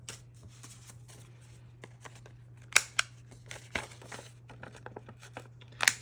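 Several paper embellishments for a handmade journal pack are trimmed together at the corners, giving soft scissor snips and paper rustles in an uneven rhythm, with a few louder, sharper cuts. Close and quiet over a low steady hum, no talking.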